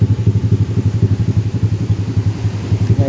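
A Yamaha Aerox scooter engine, started through a custom microcontroller switch, idles with a steady, close, throbbing low pulse that runs the whole time.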